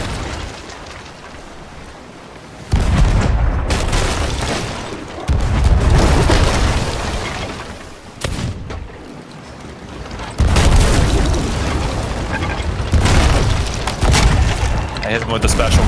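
Cannon fire and explosions in the Sea of Thieves pirate ship game, heavy booming blasts erupting in several loud bursts amid continuous rumbling battle noise, with a voice talking over it.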